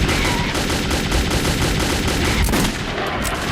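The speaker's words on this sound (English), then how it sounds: "Shoot, Bourbon, shoot." Rapid gunfire from the Metro 2033 video game, a dense sustained burst of automatic shots that runs through the whole stretch, loud and close, with a sharper crack near the end.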